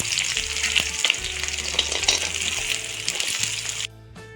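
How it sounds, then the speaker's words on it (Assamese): Onion, garlic, cashews and raisins fry together in hot oil in a kadai, a dense, steady sizzle that carries on loudly and then cuts off abruptly near the end, with a faint low hum beneath. "পিঁয়াজ নহৰু কাজু বাদাম আৰু খিচমিচ এই গোটেইখিনি এতিয়া মই ফ্ৰাই কৰি লওঁ"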